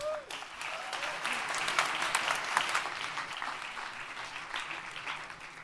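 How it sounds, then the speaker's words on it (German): Audience applause for a youth hackathon team at Jugend Hackt Berlin 2019, a dense patter of clapping that swells in the middle and then gradually thins out, moderately loud in a hall. "Ich bitte um einen ganz herzlichen Applaus und viel Aufmerksamkeit."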